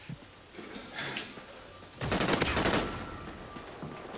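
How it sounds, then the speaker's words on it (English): A shotgun fires in Call of Duty: Ghosts during a free-for-all match, a loud broadband blast around the middle with a short ringing tail, plus fainter in-game shots and noise before it. "Yeah, a shotgun."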